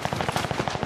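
Rapid automatic gunfire in a video game, a quick steady rattle of shots less than a second long, loud and close.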